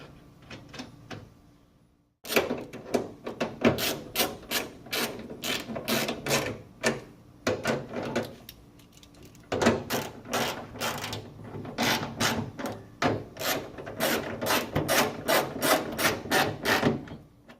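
Nuts being fastened down on a plastic-bodied grill, a dense run of ratcheting clicks and metallic rubbing in quick bursts, loud and close, with a short quiet gap near the start.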